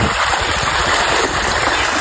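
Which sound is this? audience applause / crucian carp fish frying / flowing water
flowing water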